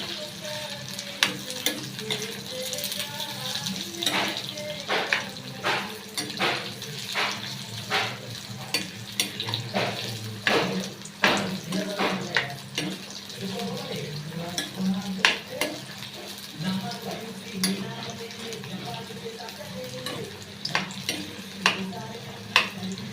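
Indian gooseberries (amla) frying in oil for a preserved pickle, with a steady sizzle and repeated sharp stirring clicks of a utensil against the pan throughout, close and fairly loud.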